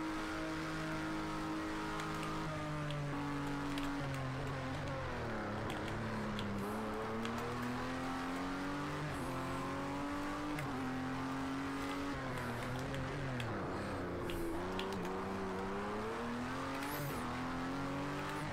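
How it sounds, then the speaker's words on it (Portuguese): Racing car engines in Project Cars 2 drone steadily throughout, revs rising and falling through gear changes, loud and continuous with no talk. "meu carro tem bem mais top speed do que o do Mario"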